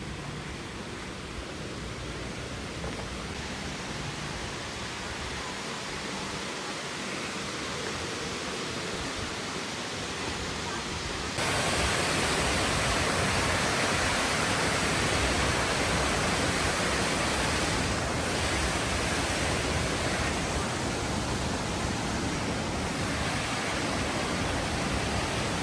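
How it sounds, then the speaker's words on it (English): Waterfall cascading into a Disney resort pool beside rock formations and a bridge, a steady broadband rush that jumps noticeably louder midway as it comes nearer, with no voices. "There's the waterfall."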